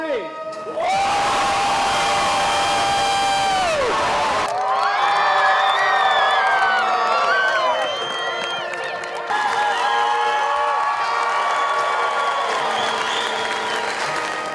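A graduating crowd cheers and applauds at once, sustained loud clapping with whoops and high shouts that swell and carry on for several seconds, with a brief lull before the cheering picks up again.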